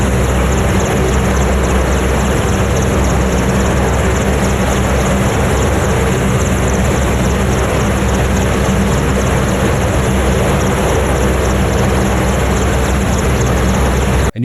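A military helicopter flying near Nuuk, Greenland, gives a loud, constant roar of rotor and engine noise that fills the whole stretch without a break or any voices.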